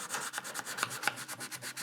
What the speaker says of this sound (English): we are going to give a scuff sand with the 800 grit again